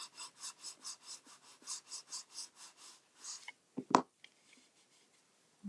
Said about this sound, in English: Fold that up, making sure that it's inside of those folds, and I'll give that a burnish.